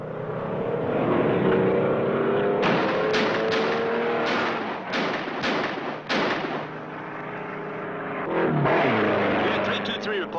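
A black hot rod convertible racing through a police roadblock on a highway: a loud, sustained engine roar with a run of sharp bangs and impacts in the middle, then the engine surging again, with voices over it.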